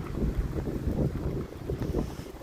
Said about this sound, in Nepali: अहिले भने चाहिँ दार्जिलिङमा डरलाग्दो हावा चलिरहेको छ